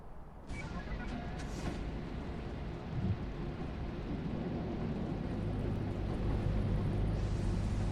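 Thunderstorm in the video game Lethal Company: steady heavy rain with a rolling thunder rumble, the downpour loud and continuous throughout with no talking.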